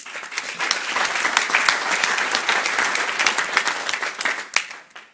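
Wedding guests break into steady applause, a dense wash of many hands clapping together at close range for about five seconds, fading slightly at the end with no speech over it.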